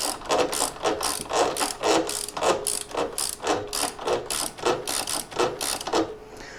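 A wrench ratchets on the rear suspension nut of a DR650 motorcycle, giving repeated bursts of sharp, close clicking in uneven strokes, alone with no talk.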